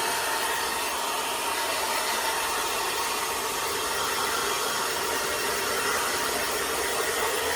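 A hair dryer blows on a Cockapoo's coat during home grooming, a close, loud, steady whoosh that holds unchanged throughout with no voices.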